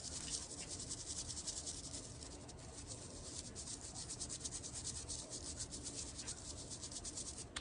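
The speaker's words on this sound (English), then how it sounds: "you just brush like this to brush off the excess" A brush sweeps excess gold foil off an Easter egg, giving a continuous dry, scratchy rubbing with quick, rhythmic strokes, close and fairly quiet.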